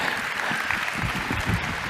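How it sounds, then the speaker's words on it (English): Brief, steady applause from a keynote audience, moderately loud and continuous with no single claps standing out. "Give him a round of applause, yeah."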